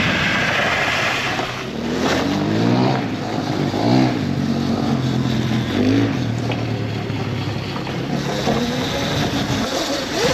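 An upgraded 15kW Surron electric go-kart lapping a small track, giving a loud, continuous whine that rises and falls as it accelerates and slows, with heavy rumble and wind noise and no talking.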